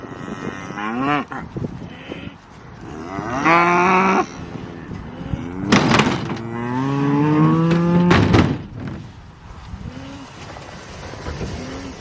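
Cattle on a hillside pasture let out several loud, drawn-out moos close by, one after another, with short pauses between the calls.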